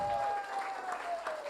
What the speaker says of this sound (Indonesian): saya kasih kesempatan dulu untuk semua yang hadir bertepuk tangan